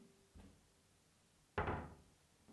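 A door fitted with a soft-close closer shuts in a renovated home, a quiet soft thump followed by a firmer, louder thud as it settles, with a faint knock at the end.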